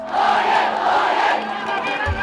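A large protest crowd in Myanmar shouts together in a sustained, loud roar of many voices, chanting and yelling with no single speaker standing out.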